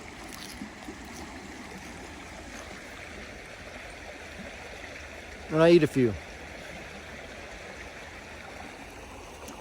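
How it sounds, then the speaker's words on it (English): A creek runs through the woods with a constant rushing, burbling wash that holds steady throughout, briefly interrupted by a short spoken remark in the middle. "We're over here by this creek."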